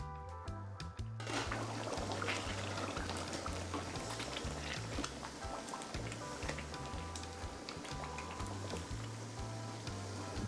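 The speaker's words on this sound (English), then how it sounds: "Now I'm going to check on the oxtail and I'm going to give it the final stir." Coconut oxtail simmering in a pot on a stovetop while being stirred, a steady close bubbling and liquid churning with scattered clicks and scrapes throughout.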